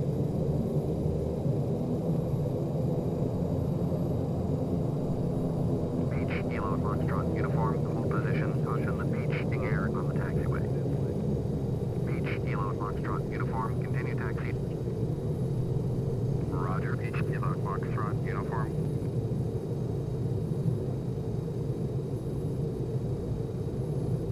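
Small propeller airplane rolling toward the runway at the end of an African tour, a steady loud engine drone filling the whole stretch, with a few short bursts of radio chatter or voices over it.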